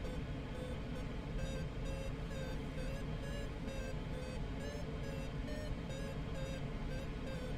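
Faint electronic beeping chirps, a few short tones over a steady hum, from a glider variometer in Microsoft Flight Simulator during a cross-country flight over the eastern Andes, Argentina.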